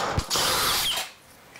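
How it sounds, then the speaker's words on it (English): A cordless hammer drill in turbo mode bores a hole with a half-inch bit, giving one loud close burst of whirring and hammering that lasts about a second before spinning down. "We're just gonna drill one right here."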